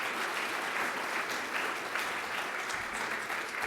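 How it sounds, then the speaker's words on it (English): A dinner audience at a Jewish Caucus summit gives sustained applause, a dense, steady wash of many clapping hands. Loud and continuous throughout, with no clear speech. "So give yourselves a round of applause for that."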